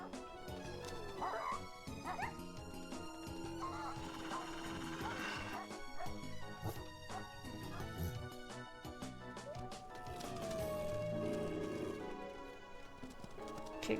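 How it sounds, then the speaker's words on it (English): Dogs bark and yip in the video game Wolf Quest, a string of sharp barks with a few whimpers over busy game sounds, while a voice talks intermittently. "we're about to be attacked by dogs, I think."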